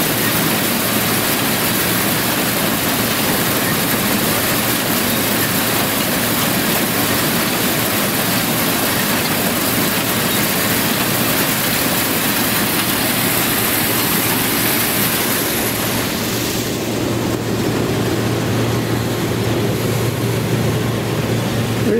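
A tractor engine works in a grain field during harvest, a loud, continuous broadband roar with a steady low hum that runs unbroken throughout and changes slightly in tone near the end.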